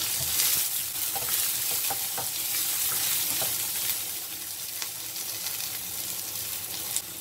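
Onion, curry leaves and green chili sauté in hot oil in a pan, a loud steady sizzle with occasional stirring scrapes, close up and continuous with no speech.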